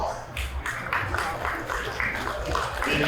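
Steady clapping from an audience at a junior market goat and replacement doe show at the 2022 Williamson County Fair, a dense, continuous patter of many hands that lasts about three seconds at even loudness.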